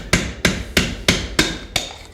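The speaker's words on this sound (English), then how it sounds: "You're going to need a straight slot screwdriver and a hammer. Knock the cover off." A hammer striking a screwdriver to knock off the governor cover on a transmission, six sharp metallic blows at an even, steady pace, loud and close, with no talking.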